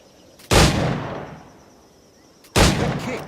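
Two loud, close musket shots in Assassin's Creed IV, each a sharp crack followed by a long rolling boom that fades away, spaced about two seconds apart with no talking.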